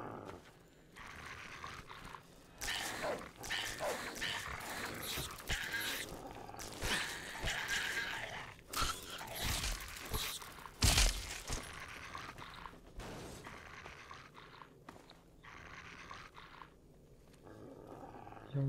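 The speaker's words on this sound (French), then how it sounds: "Il est en colère, le chien." An angry dog in Fallout 3 growls and snarls in long, rough bursts that continue over nearly nineteen seconds, loud and close with short gaps between.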